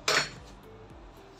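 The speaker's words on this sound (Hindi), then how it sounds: "इसमें मैं ये 3 चम्मच चीनी के डालूँगी।" A metal spoon clinks sharply once against a glass or bowl while sugar is added to a chikoo (sapodilla) milkshake, a single bright close strike that rings briefly and fades.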